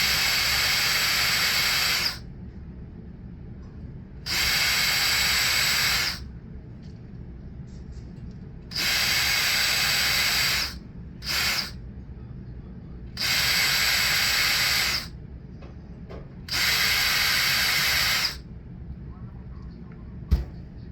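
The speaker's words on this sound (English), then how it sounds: "now it's time for me to use the drill" Five bursts of a high-pitched electric drill making round holes in a logo, each about two seconds, separated by short pauses, plus one quick blip, all close by with a low background hum.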